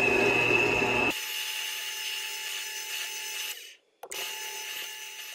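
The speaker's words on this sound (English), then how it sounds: "Now this one's a little bit harder, drilling in through the aluminum." A power drill bores through aluminum with cutting fluid to make a homemade Audubon bird call. A rough, loud burst is followed by a steady, high whining drone that cuts out briefly near the end, then resumes.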